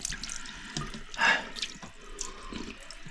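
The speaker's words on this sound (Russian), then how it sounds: "Вот из-под крана течет сероводородная водичка." Hydrogen sulfide water runs from a tap into a sink, a soft trickling splash that swells briefly in the middle, close and quiet with no talk.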